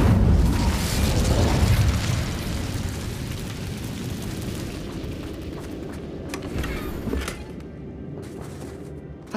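The Incendio fire spell in Hogwarts Legacy lets out a loud, rumbling fiery blast that fills the opening seconds and then fades into a sustained roaring crackle with a few sharp pops near the end.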